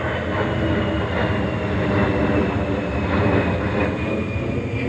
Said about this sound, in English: Planes are mighty loud here because the airport is not that far from here.